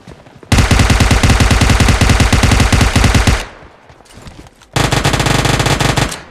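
Rapid automatic gunfire from a Groza and an M249 in the PUBG Lite video game, loud close bursts of rattling shots, a long burst, a short pause, then another sustained burst.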